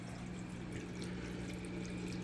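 Steady water trickling and flowing down the edge of a Top Fin Infinity Edge waterfall aquarium, a faint continuous wash with a low pump hum beneath it and no talking.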